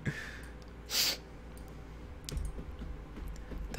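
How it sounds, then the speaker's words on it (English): Someone types on a computer keyboard, producing a few sparse, close key clicks and taps separated by pauses, with a brief breath or sigh near the start. "I'm typing just fine"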